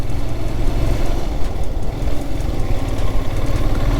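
A steady, loud motorcycle engine drone with low rumbling throughout, cruising at constant speed on a mountain road toward Spiti in the Himalayas.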